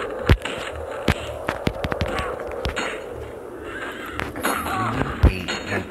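Horse whinnies inside a video game, with a few sharp neighs and thumping hits standing out over busy in-game noise and background effects.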